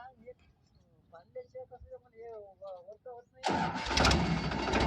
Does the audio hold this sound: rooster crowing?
no